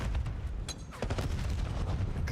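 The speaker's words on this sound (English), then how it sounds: "Clang of frag grenades." Frag grenades go off in a competitive search-and-destroy esports match, a dense, continuous run of sharp blasts and crackling bursts, loud and close, with no voices over it.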